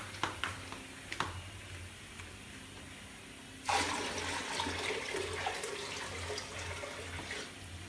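A quiet rustling background, then water abruptly starts pouring onto a rock in an aquarium in a steady, splashing stream that continues to the end.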